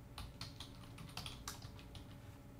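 Close, steady typing on a computer keyboard while entering a server administrator password, a quick run of soft key clicks with no talking.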